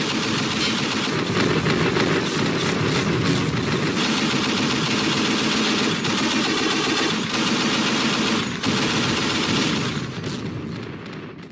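Tank engines rumbling with suppressive machine-gun and cannon fire in the military game Project Reality, dense continuous bursts of gunfire over a heavy low engine drone, loud and close with no pauses.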